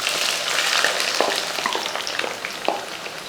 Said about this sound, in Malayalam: കുറച്ചുകൂടെ ഉണ്ട്, അതുകൂടെ ഇന്ന് വറുത്തെടുക്കാം.